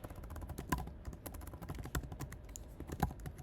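Rapid, close clicking of a computer keyboard as a short word is typed, an even stream of light taps with a few harder key strikes.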